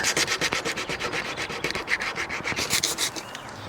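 Steady back-and-forth hand sanding of a boat cockpit surface being prepped for repainting, close and rhythmic scraping strokes repeating several times a second, no talk.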